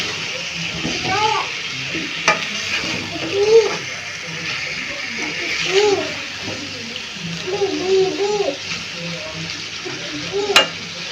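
Cut pumpkin pieces drop into oil and fried spices in a pan for a vegetarian curry, setting off a steady sizzle with scraping stirs and occasional clatters of the utensil, close and moderately loud throughout.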